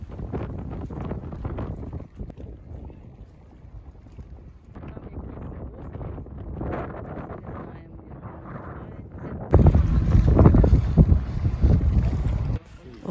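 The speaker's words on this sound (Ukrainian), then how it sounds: "Трошки не пощастило з погодою, бо вітряно, а вітер тут холодний." Cold wind in Hurghada, Egypt buffets the microphone in rumbling gusts, rising and falling, then surging much louder for a few seconds near the end.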